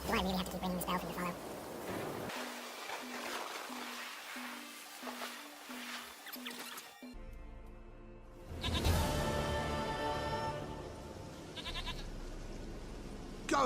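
A goat bleats in The Witcher 3, its calls mixed with spoken dialogue, a repeated ringing bell tone and game ambience, with a louder burst of sound partway through.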